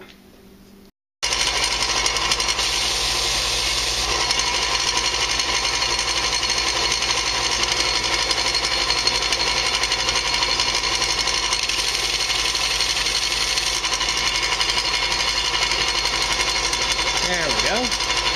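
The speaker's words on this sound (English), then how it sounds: "let me go ahead and shape that a little bit on the belt sander until it fits" A belt sander shapes a small piece of wood to fit a groove, starting abruptly after a brief quiet moment and then grinding loudly and continuously with a steady motor hum and buzzing abrasive rasp right up close for the remaining quarter minute.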